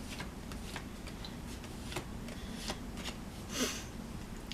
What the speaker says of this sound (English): Yeah, when you shuffle this way, it takes a lot longer.